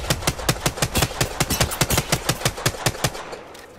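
Rapid automatic gunfire from Apex Legends rattles off in a steady burst of evenly spaced shots for about three seconds, loud and close, then stops.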